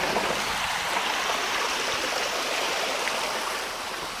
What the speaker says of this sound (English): Got this cool water thing happening.